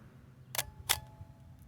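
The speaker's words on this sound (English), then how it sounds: "because I don't have film inside, I need to depress the shutter" The shutter release of a Konica Autoreflex T 35mm SLR, fired without film loaded, makes two crisp mechanical clicks about a third of a second apart. They are quiet and close in an otherwise calm room.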